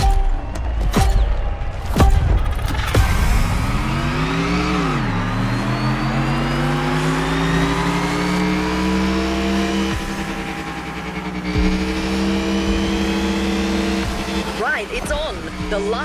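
Mercedes EQ Silver Arrow race car in The Crew Motorfest, a loud electric whine rising and sweeping in pitch as it accelerates, with tire noise and a few sharp knocks early on, under game ambience.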